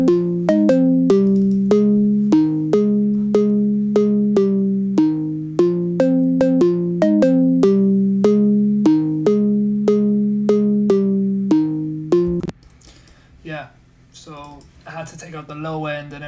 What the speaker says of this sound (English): sample of a Rhodes here, which I've added glue compressor,